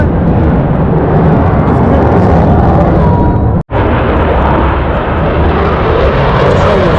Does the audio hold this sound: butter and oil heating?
no